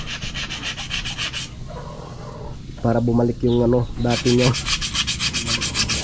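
Rhythmic rasping strokes of sandpaper on acacia wood, loud and close, with someone speaking briefly in the middle between bursts of rubbing.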